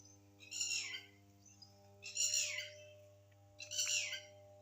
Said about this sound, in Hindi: ये चिड़िया चहचहाती हुई